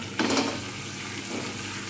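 Hot tadka with almonds poured into white chicken qorma gives a sudden hiss that settles into a steady sizzle and crackle, close and fairly quiet, with a second small flare a moment later.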